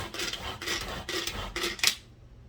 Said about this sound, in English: So give it a couple more little blitzes.